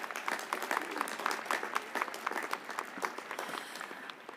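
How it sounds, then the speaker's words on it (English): A graduation commencement crowd at Ohio University claps for a speech, sustained even applause that fades slightly toward the end, with no voices over it. "Let's give Leanne another round of applause for that great speech."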